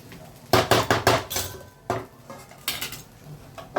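Metal utensil scraping and clinking in a pan as poha is stirred, a run of loud bright knocks and clatters in bursts, close by with no talking.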